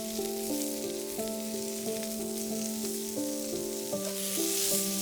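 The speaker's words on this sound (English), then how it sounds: "Onion slices and fresh pressed garlic" Onion slices and freshly pressed garlic frying with crisped oyster mushrooms in oil, a constant near sizzle with faint stirring under a gentle musical backdrop, no speech.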